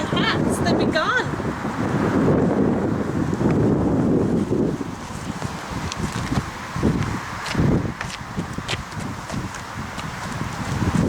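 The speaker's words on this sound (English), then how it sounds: "Don't blow away, it's very windy." Strong wind buffets the microphone in heavy, uneven gusts throughout, with faint voices underneath.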